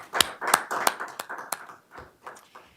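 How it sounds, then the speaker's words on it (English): Audience at a February 2021 school board meeting applauding CTE programs and teachers: a few sharp, close hand claps at an uneven rhythm, thinning and fading out over a couple of seconds. "How about a round of applause for all of our CTE programs, teachers, and Joy."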